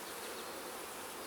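Honeybees hum in a docile hive during a split inspection, a dense, steady buzz of many insects filling the clip close up, with no voices.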